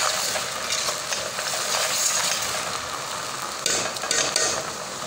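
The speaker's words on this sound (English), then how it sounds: "allow it to boil. You can see it boiling." Neem leaves boil in a pot of water at home, a dense steady bubbling and sizzling hiss with small clicks and rattles throughout, fairly loud and close with no talking.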